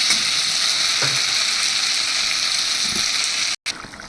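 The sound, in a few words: water poured into sizzling spice mix while cooking Bengali fish curry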